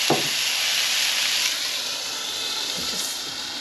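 Steam hisses under a wok lid set over a venison burger with melting cheese on a stovetop, a steady broadband sizzle and hiss close by for a few seconds, with no talk over it.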